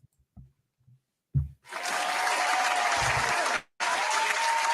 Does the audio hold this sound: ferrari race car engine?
no